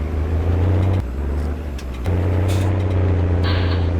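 A tractor engine in the Farming Simulator 19 video game runs steadily with a deep low drone and a brief dip in tone partway through, loud and close, with no talk over it.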